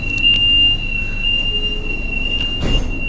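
A KL Sentral commuter train from TBS, its wheels squealing in a long steady high whine over a low rumble of the moving carriages, close and continuous.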